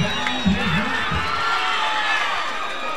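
A crowd at an amateur heavyweight MMA fight cheers and shouts after a rear naked choke victory, a broad roar that stays steady, with a louder voice rising over it near the start.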